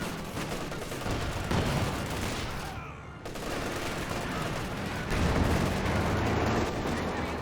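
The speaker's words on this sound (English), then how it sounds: "got the Calliope rocket barrage running as well" A Calliope rocket barrage in Company of Heroes 2 pours out as a sustained, roaring rush of overlapping launches and booming impacts, loud and continuous, with a brief dip midway and no clear talking.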